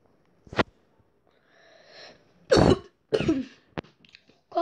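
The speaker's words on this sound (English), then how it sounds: "Cough alert." A person coughs several times nearby in short, irregular bursts with a throat-clearing rasp and a brief sniff between them, in a quiet room.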